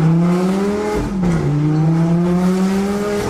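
A Lamborghini sports car engine drones steadily while driving, its pitch dipping briefly as it shifts and then climbing again, loud and close throughout.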